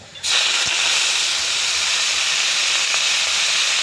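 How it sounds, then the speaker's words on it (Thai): Loud, steady sizzling hiss starts abruptly and continues without pause as cabbage with garlic stir-fries hard in a very hot wok. "ผัดไปสักพักหนึ่งผัดไปเรื่อยๆให้มันไม่ไหม้นิดนึง"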